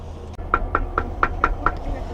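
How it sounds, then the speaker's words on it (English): Knocking on the door of a licensed children's facility: six evenly spaced raps, close and clear, with no talk during them. "I knocked on the door"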